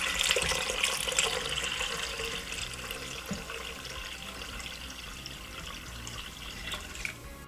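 Tap water runs steadily into a pot for a vegan soup of combined beans and peas, a continuous close splashing and trickling that slowly softens over several seconds, with no voices.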